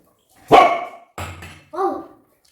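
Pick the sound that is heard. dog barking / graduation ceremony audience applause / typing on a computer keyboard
dog barking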